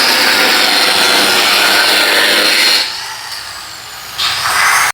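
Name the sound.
cutting roll cage tubing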